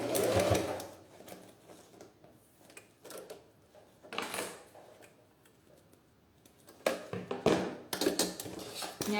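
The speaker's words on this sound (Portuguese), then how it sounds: "agora eu vou passar a costura com meio pé de máquina nessa lateral aqui" A sewing machine stitches with a half presser foot along the side seam of a clear-window beach pouch, running in short bursts separated by quiet pauses and small handling clicks, close by.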